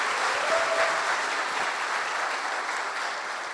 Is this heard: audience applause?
yes